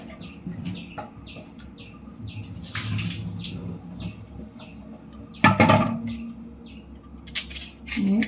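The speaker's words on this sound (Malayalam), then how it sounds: "ഇനി നമുക്കിതൊന്ന് കഴുകിയിട്ട് അരിഞ്ഞെടുക്കാം." Onions and garlic being rinsed under a running kitchen tap, a light intermittent splashing and trickling with handling noises and a louder gush midway, while birds chirp faintly in the background.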